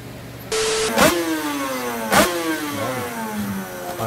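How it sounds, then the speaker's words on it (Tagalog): A 2-stroke big bike's engine revs, rising and falling in a few sharp throttle blips with a whining tone at a stoplight, fairly close and loud over traffic noise; nobody talks. "big bike na 2-stroke."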